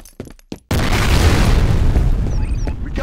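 A grenade detonates in the multiplayer shooter F.E.A.R. Combat: a few sharp thuds, then a sudden heavy boom with a long rumbling tail that fills the rest of the moment.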